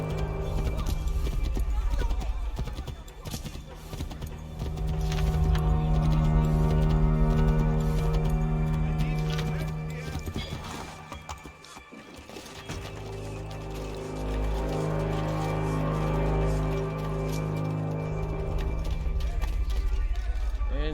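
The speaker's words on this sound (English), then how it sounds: "You can even hear the horses breathing." Horses in the video game Assassin's Creed 3 clip-clop along at a walking pace with snorts and breathing, set against a sustained musical score and ambient game sound.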